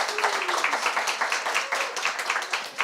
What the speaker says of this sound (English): you can do an applause for...